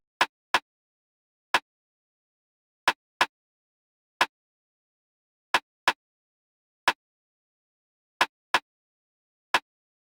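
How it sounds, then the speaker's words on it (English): A dull, short snare hit repeats in a sparse, irregular trap pattern, each crack isolated against complete silence, dry and fairly loud with no other instruments or voices. "So I played this very simple snare pattern just to complement the claps"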